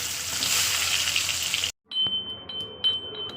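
Dry red chillies and cumin seeds hit hot oil with a loud, steady sizzle, then a brief drop-out before fainter crackling, scraping and a thin whine continue close by.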